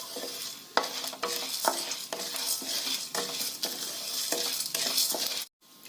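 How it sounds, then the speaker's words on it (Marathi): Coriander and cumin seeds dry roasting in a kadai over low heat, a dense rattling rustle as they are stirred in repeated strokes, close and fairly loud, stopping abruptly near the end. "धने आणि जिरे एकदम मंद आचेवरती हे छानसं आता भाजून घ्यायचं."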